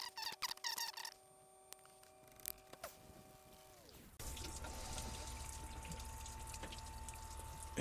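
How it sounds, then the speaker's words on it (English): Coolant pouring out of disconnected hoses on a 2008 Chevy Silverado 1500 with an overheating problem, first faint drips and squeaky tool sounds, then a steady rushing drain that continues to the end. "And there goes all my coolant."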